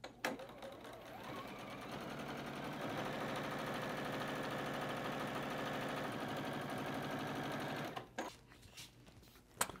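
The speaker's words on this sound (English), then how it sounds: "I'm going to come over here and stitch them together. Again, sewing on that drawn line." A sewing machine runs in one continuous stretch of about seven seconds, stitching batik fabric squares together along a drawn line. The whirring is close, steady and fairly quiet, with brief handling clicks at the start and end.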